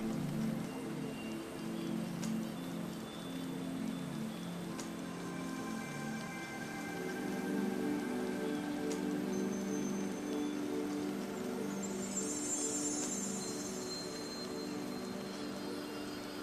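Steady rainfall in a rainforest, a dense, even patter of drops on leaves and surfaces that holds at a constant level throughout, with scattered closer ticks and drips standing out against the wash.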